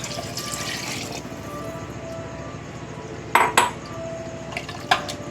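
Water poured into a pressure cooker of young goat mutton curry with garam masala: a steady pouring gurgle, then a few sharp metallic clinks of pot and utensil near the end.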